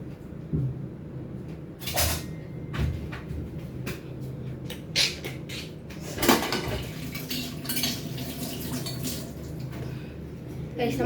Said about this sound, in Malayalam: സ്പൂൺ എടുത്തിട്ട് വരാം.